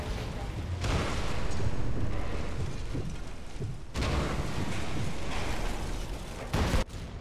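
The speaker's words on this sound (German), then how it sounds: "Gab sogar noch ein paar Nebenbei-Explosionen." Explosions in the video game Sniper Elite 4 strike a convoy as a burst of heavy, rumbling booms with dense crackling debris, several blasts in sequence with brief gaps between them.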